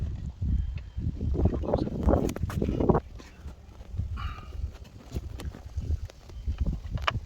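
Wind blows outdoors during an e-scooter repair, a gusty low rumble buffeting the microphone: strong for the first three seconds, then easing into a steadier, softer roar, with no speech.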